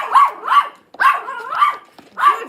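A small dog barks repeatedly outdoors, a run of five or six sharp, close, loud yappy barks in quick uneven bursts, with no talk over them.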